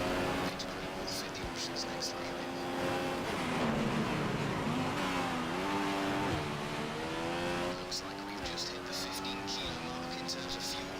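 Formula 1 car at the Bahrain Grand Prix in the F1 2015 racing game, its engine droning and shifting pitch as it slows into the pit lane, steady and fairly loud beneath someone talking.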